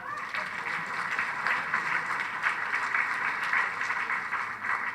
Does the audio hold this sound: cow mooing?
no